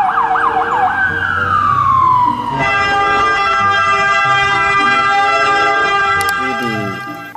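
A toy ambulance sounds a loud electronic siren. A falling wail gives way to a steady, buzzy tone pattern, with a few brief chirps near the end.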